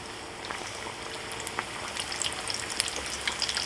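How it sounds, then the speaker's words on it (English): Chimichanga deep frying in hot oil, a steady bubbling sizzle with scattered pops and crackles, fairly soft and continuous with no talking. "Oil's up the temp, so we're going to go ahead and put this in."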